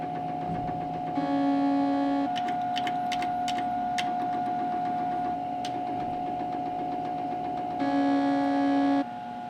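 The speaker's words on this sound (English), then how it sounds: "The stepper motor can be actuated one step at a time or through a range of steps" A Marron Carrel 1400 rostrum camera's stepper motor runs in two bursts of steady whining hum, with rapid clicking steps between and a constant electrical tone underneath, close and alone.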